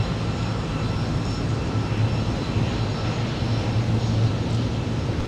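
An aircraft engine drones steadily at MSP airport in winter, a loud, continuous low roar with a faint high whine, holding even throughout.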